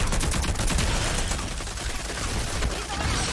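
Rapid gunfire from a firefight in the shooter game Rogue Company, a loud continuous volley of overlapping shots filling the whole moment with no clear gaps.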